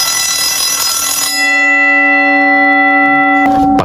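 An electric bell wired to a timer rings loudly in one continuous, sustained metallic tone for a few seconds before cutting off with a brief clatter.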